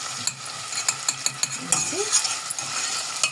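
Chopped onion fries in oil in a pot with a bright, steady sizzle, punctuated by repeated scraping and clinking of a utensil stirring against the metal. A voice speaks briefly under the noise.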